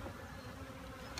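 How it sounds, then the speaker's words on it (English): Honey bees buzz in an opened hive as the frames are jostled, a steady close insect drone throughout with a brief sharper whine near the end. "The bees are getting a little, I don't want to say feisty, but sassy."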